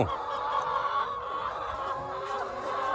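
Chickens cluck and chatter on a poultry farm abroad, a dense, continuous flock murmur of overlapping hen calls at moderate distance with no voices.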